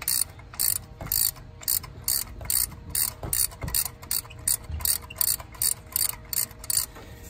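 A ratchet wrench works a seized spark plug loose on a Honda Pilot, clicking in a steady back-and-forth rhythm of short, crisp ratcheting bursts, close up and alone.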